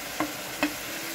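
Ground cumin and other spices fry in a pan while a spoon scrapes through them twice in quick strokes over a faint, steady sizzle.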